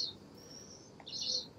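Birds chirping in the wildlife game Alba: A Wildlife Adventure, with a few thin, high tweets standing out faintly over a quiet outdoor ambience.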